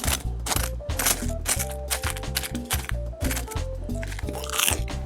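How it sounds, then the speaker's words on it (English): Tofu crackles and crunches steadily while being handled after deep frying for a Thai pad prik khing, with dense, rapid crisp snaps, close up and loud, with no talk. "just listen to how crispy that tofu is"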